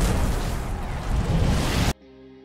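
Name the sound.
explosion of speeding car in film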